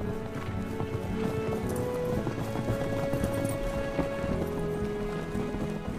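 Maremmano horses, working mounts of the Maremma cowboys in Tuscany, with hooves clip-clopping steadily amid a busy outdoor wash of sound and a faint voice in the background.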